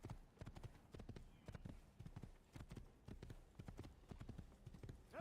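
Horse hooves clip-clop in a steady galloping rhythm in the video game Assassin's Creed, continuous and even throughout with no voice over them.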